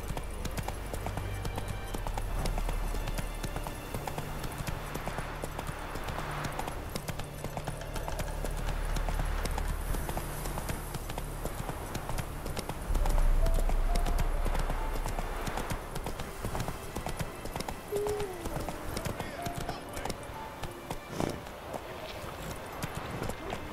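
Hooves gallop in a steady, rapid rhythm from a horse ridden in The Witcher 3 video game, continuous and fairly close beneath game music and ambient sound.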